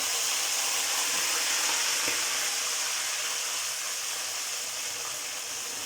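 Melted browned sugar sizzles and hisses steadily in a pan for a Peshawari makhandi halwa as an ingredient is slowly poured in and stirred, a loud, dense, continuous frying sound with no voices.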